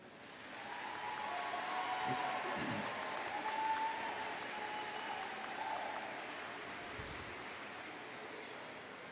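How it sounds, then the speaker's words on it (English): Parents and friends applaud graduates at a Metro Technology Centers graduation ceremony, a soft, steady wash of many hands clapping that rises gently, holds, and tapers slightly, sounding somewhat distant in a large hall. "I'd like for all the parents and the friends to please give our graduates a round of applause."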